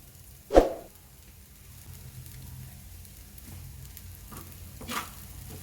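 Salt is stirred into vamannam, a seasoned rice dish, with soft scraping and mixing sounds, a sharp knock at the start and another faint clack near the end, quiet and close with no voices.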